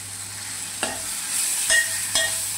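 A spoon stirring softened tomatoes with turmeric and coriander in a pan, soft scrapes and a few light clinks over a constant low sizzle, close by with no talking.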